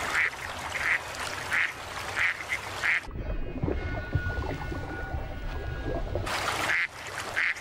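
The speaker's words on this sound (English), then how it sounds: "The ducks are unaware of what lies beneath." Ducks quack in short repeated bursts, then fall quiet for a few seconds over low watery rumble before quacking resumes.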